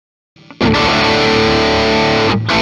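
A 1988 Gibson Les Paul Junior DC Pro Stein electric guitar played through heavy distortion, a thick sustained chord ringing loudly after a brief quieter pick, then cutting off near the end.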